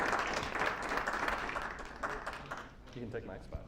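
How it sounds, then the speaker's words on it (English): An audience at a Texas hemp candidate forum claps and cheers to welcome speakers to the stage, a dense burst that fades as a voice starts talking. "Please give them a round of applause and welcome them to the stage."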